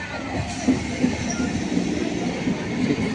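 A train rumbles past close by, wheels clattering in a rhythmic clack with a faint high squeal above the steady roar.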